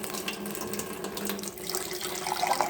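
Water runs steadily from a Tyent UCE-11 alkaline water ionizer set to level 3, a continuous close splashing stream with faint tonal hum underneath and no talking.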